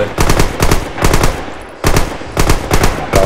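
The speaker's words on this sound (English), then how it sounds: "got an MG on the right" Machine gun fire in Red Orchestra 2 rattles out in loud, sustained bursts, about six close rapid volleys separated by short gaps.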